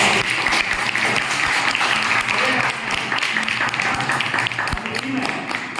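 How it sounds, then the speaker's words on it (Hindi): An audience at a training meeting in Ishlampur applauds Mr. Sanjeev Kumar, a continuous, loud roar of clapping hands from a packed room, sustained evenly throughout with voices mixed in beneath. "एक बार जबरदस्त तालियां होनी चाहिए, मिस्टर संजीव कुमार"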